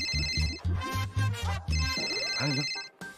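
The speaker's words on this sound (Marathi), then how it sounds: "शंतनूच्या बॉसचा फोन आहे." An electronic telephone ringtone plays at close range, a steady tonal melody repeating for a few seconds with faint voices or background sound underneath.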